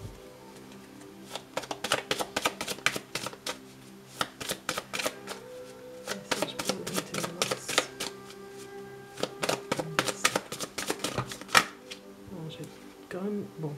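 Tarot cards being shuffled and handled in a dense run of crisp riffling and slapping bursts, close and fairly loud, with a brief pause in the middle, under a steady musical background.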